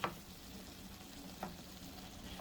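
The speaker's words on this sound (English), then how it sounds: "I'm going to stir that in. Get it all mixed together." Browned meat fries in a pan at an off-grid dinner, sizzling quietly and steadily while a spoon stirs it, with a couple of soft scraping clicks.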